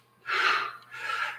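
Two deep breaths taken during a warm-up exercise in a fitness class, a forceful close inhale followed by a softer second breath, alone.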